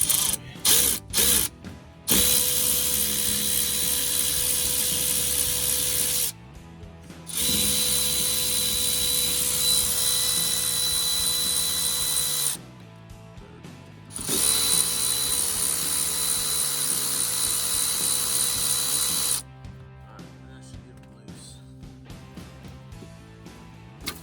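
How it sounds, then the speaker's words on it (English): Electric ratchet with a 10 mm socket undoing bolts behind the dash of a 1999 Ford F450 truck, whirring in several sustained bursts broken by short pauses, loud and close with no voices. "I just use a 10 mil on this electric ratchet, and that seems to do the magic"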